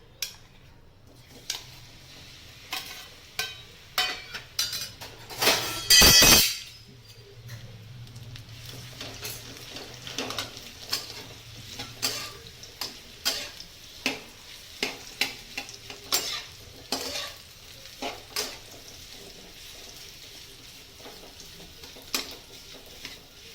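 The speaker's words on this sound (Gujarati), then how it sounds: "એની ઘીમાં આપણે ખજૂર શેકી લેવાનો છે" Dates roasting in ghee in a pan while being made into a date and dry fruit chikki, with a steady low sizzle under repeated scraping and stirring clicks, plus a brief loud burst of hiss partway through.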